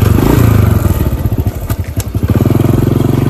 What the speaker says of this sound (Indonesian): Akan naikkan motor klasik.